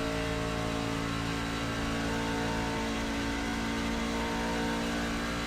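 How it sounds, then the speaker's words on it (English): A NASCAR truck in the iRacing sim game drones steadily through a constant, dense engine roar with layered harmonic whine, loud and unbroken for the whole stretch with no talk. "I think I'm going to turn up the engine a little bit. in these trucks. The engine sound, that is."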